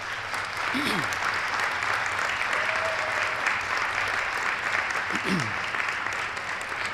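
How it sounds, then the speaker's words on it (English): A commencement audience gives a big sustained round of applause for faculty members, a thick continuous roar of clapping with a faint voice briefly surfacing beneath it. "Please give these dedicated faculty members a big round of applause."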